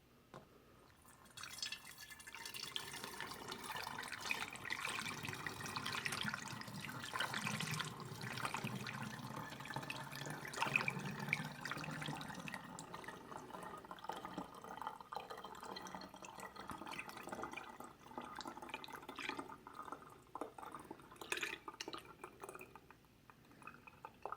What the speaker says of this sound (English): we're just gonna pour the limoncello until it's to the level where I want it filled